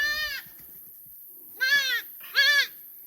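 Kalahari Red goats in a lambing pen with ewes and young lambs give three clear, close bleats: one right at the start, then two more in quick succession a second later, with quiet pauses between.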